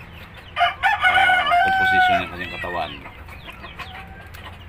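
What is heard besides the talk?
hen clucking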